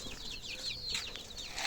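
Black hens and their month-and-a-half-old chicks on a small poultry farm give repeated high, rising chirps and soft clucks, fairly close and continuous over a low background.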